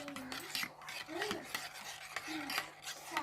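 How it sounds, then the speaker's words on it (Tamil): A spoon clinks and scrapes around a glass of beetroot juice with squeezed lemon and ginger as it is mixed, in short rhythmic bursts of close metallic scraping and rattling, with no talking. "சேர்த்துட்டு நல்லா கலந்துடலாம்"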